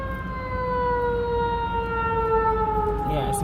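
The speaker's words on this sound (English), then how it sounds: "let him go around the ambulance" An ambulance siren wails with a slowly falling, sustained tone, moderately loud and close, heard over a car's interior rumble.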